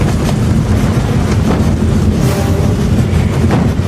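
A train from the film Back to the Future Part III rumbles steadily along, a dense, loud, continuous roar with low rattling and no voices.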